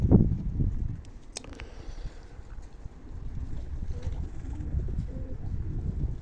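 Pigeons of a German breed kept on a rooftop give soft, low cooing under gusty wind noise, with a brief louder flutter or call near the start and a steady murmur of birds afterward.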